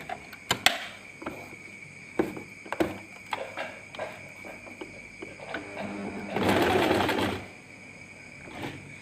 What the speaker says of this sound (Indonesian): Kita mulai jahit ya teman-teman.